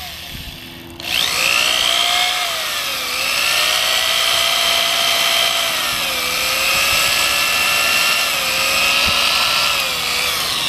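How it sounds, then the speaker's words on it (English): An electric drill running a headlight restoration pad whines loudly and steadily, its motor pitch wavering up and down slightly as it runs continuously after a brief quiet start. "let's adjust our drill."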